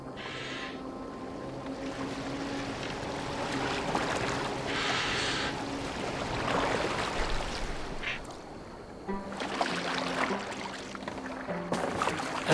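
A boat moving on water in Assassin's Creed Valhalla, with a steady wash of water, splashing, and occasional creaks from the hull, heard continuously and at moderate level.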